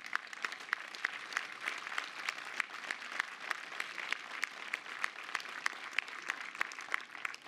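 Audience applause at a theatre inauguration speech, steady dense clapping from a crowd sustained throughout, with regular sharper claps standing out at a moderate distance.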